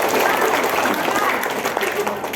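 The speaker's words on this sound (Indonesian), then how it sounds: "Tepuk tangan untuk calon pengawas" Audience clapping at a supervisor training session in West Sumatra, a dense wash of hands applauding with crowd murmur and a voice talking underneath.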